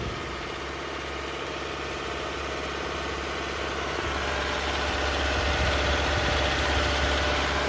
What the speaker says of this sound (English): And don't worry when the engine is at 2000 RPM.